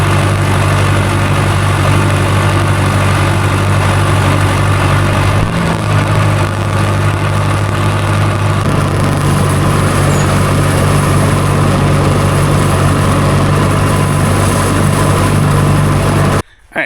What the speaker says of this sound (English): it seems like the baler's working out pretty darn decent